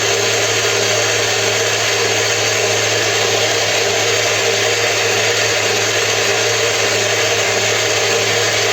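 Electric mixer whipping cream for a traditional Hungarian-style layered wedding cake, a steady loud motor whir with broadband beating noise holding constant throughout, no speech.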